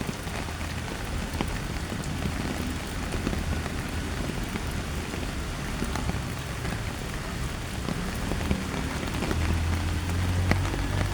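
Steady rain on a rainy Monday morning, falling on an umbrella and nearby surfaces with a dense, continuous patter of close drops and no voices.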